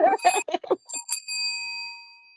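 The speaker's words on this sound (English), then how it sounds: "I'm gonna make sure the bell rings" A single bright ring of a bell, sounding clearly after a brief burst of talk and then fading away with a long, even ringing decay.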